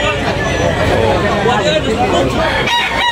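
At a chicken market in Tabunok, Talisay, Cebu, a rooster crows amid a dense babble of voices, its call rising through the crowd noise, with a couple of sharp bursts near the end.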